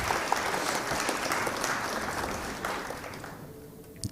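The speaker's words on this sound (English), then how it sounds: "We'll have to give him an applause for that hit." A short burst of applause from a small audience at a pool challenge match, rewarding a shot, steady at first and then thinning out and fading near the end.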